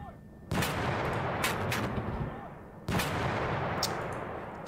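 Mortar fire in the wargame Panzer Battles North Africa 1941, two sharp blasts a couple of seconds apart, each followed by a lingering rumbling decay, moderately quiet.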